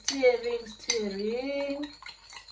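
A spoon scrapes and rings against a metal pot while a cinnamon mixture with water is stirred, two long squealing strokes with faint clinks, close and fairly quiet.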